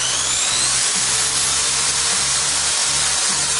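A Maktec MT80B electric drill runs loud and close, a continuous whirring hiss that holds steady as its speed is taken from slow to fast, with no talk over it.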